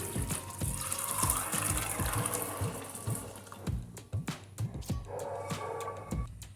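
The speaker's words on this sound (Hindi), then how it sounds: "जो चने हमने बॉईल किए थे पानी के साथ में, वो इसके अंदर डालेंगे" Boiled green chickpeas and their cooking water poured into a pan on a low gas flame, a steady splashing pour with a few clinks and knocks, close and fairly loud throughout.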